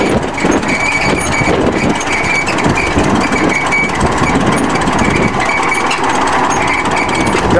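A bulldozer's heavy diesel engine runs steadily at idle, a loud continuous rumble with a rattling, clattering texture throughout.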